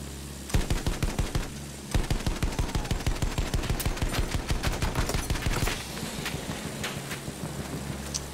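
A gunner fires a machine gun in an attack-plane combat video game, loud rapid bursts of shots in steady rhythm, pausing once briefly before continuing, then giving way to a softer rumble.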